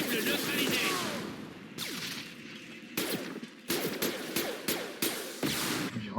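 Gunfire in the video game Mass Effect 2, a sustained barrage of rapid shots followed by several sharp separate bursts, loud and close, with game effects underneath.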